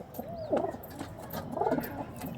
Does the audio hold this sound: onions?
no